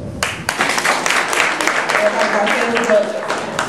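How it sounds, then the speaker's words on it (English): An audience at a comedy show claps their hands, starting after a short pause and building into a loud, dense round of applause, with laughter and voices mixed in. "clap your hands if you got a Facebook"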